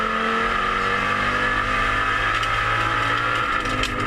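A five-cylinder race car engine roars loud and steady at Sydney Motorsport Park, a continuous, close, harmonically rich howl with no pauses.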